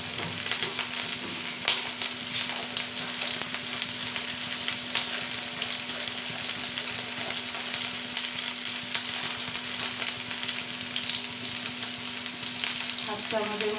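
Ground spices such as cumin and chili powder frying in a pan for chicken Maggi noodles, a steady bright sizzle with occasional stirring scrapes, close and continuous with no talking.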